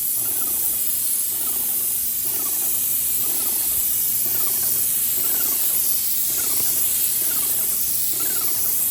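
An airless paint sprayer coats louvered shutters and doors with a steady, close, continuous hiss that holds evenly throughout, with faint rhythmic mechanical pulsing underneath and no talk.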